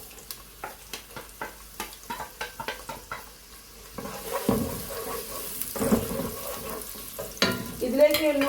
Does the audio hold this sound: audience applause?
no